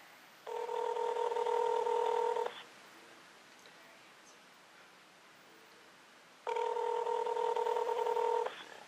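Two long bursts of a steady electronic ringback tone from an outgoing call on an LG Gizmo Pal, each about two seconds, separated by a few seconds of quiet room noise.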